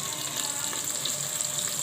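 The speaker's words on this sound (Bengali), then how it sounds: "ট্যাংরা মাছটা কেমন ফাটছে।" Tangra fish frying in hot oil, a dense continuous sizzle with scattered small pops and spatters, close and steady throughout with no talking.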